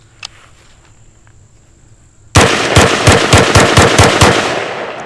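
An MK18 AR pistol fires a loud rapid string of about a dozen close shots in quick rhythm, starting abruptly after a quiet pause.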